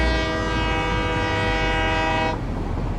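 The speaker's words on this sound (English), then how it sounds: "Also train horns." Train horn in the Satisfactory video game, a single loud sustained chord-like blast lasting over two seconds before cutting off, over a low steady rumble.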